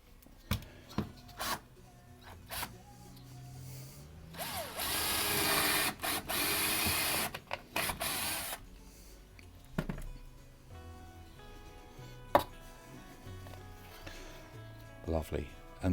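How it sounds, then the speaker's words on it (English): An electric drill bores a hole through the center of a plastic tray resting on a piece of wood, a loud whirring burst lasting several seconds amid handling clicks and someone talking. "I will also need to now drill a hole in the center of this tray"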